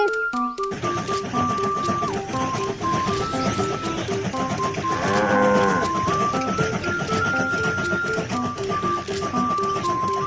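Sheep bleat and cattle-like moos sound over a simple tonal melody in a children's train video game, the animal calls rising in the middle amid steady electronic music with no talking.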